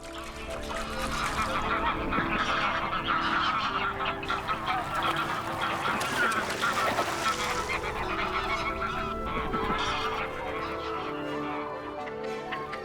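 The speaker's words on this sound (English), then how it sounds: "Grey-lag geese have lifelong partners, but the best nesting places are fought over." Greylag geese honk loudly and continuously in a dense, squabbling chorus as they fight over nesting places in Dutch wetland, harsh overlapping calls filling the whole stretch.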